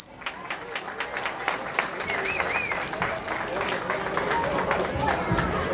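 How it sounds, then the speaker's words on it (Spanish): Guests clapping at a quinceañera reception in a Mesa, Arizona reception hall, scattered rhythmic applause mixed with crowd chatter, whoops and background music across the whole stretch. "Recibámoslos con un fuerte aplauso"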